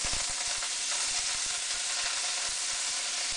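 Chopped parsley and onions sizzle steadily in a hot pan, a dense continuous frying hiss with small crackling pops throughout, close and fairly loud with no talking.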